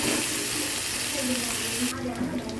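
Chopped tomatoes fry in hot oil in a pan, giving a close, continuous sizzling hiss with faint stirring sounds over about two and a half seconds.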